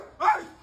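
A man imitates a dog with a single short, gruff bark, close and loud against a quiet background.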